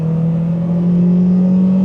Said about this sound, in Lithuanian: Čia gaso dugną laikau į ką.